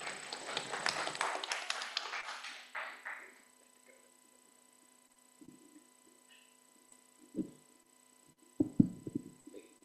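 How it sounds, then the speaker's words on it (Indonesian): An audience at a career talk applauds briefly, a burst of clapping that dies away within about three seconds, followed by a quiet hum and a few soft bumps and knocks. "Hadirin dapat memberikan tepuk tangan."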